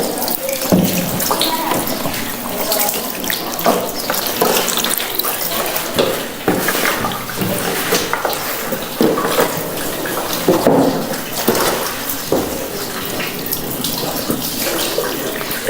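Water is poured steadily over a body during a Shia ghusl ritual washing, a continuous splashing and running flow that lasts throughout, with faint talk underneath.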